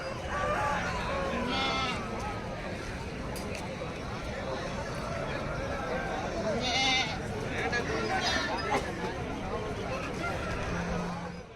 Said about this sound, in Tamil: இப்போ இந்த வீடியோவில் பார்த்தீங்கன்னா குணத்தூர் ஆட்டு சந்தைக்கு வந்திருக்கிறோம்